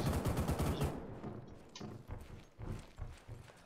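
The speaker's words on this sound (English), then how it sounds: "I cannot hear you over the gunfire." Rapid bursts of video-game gunfire crackle loudly at first, then give way to scattered, softer shots and thuds over the rest of the moment.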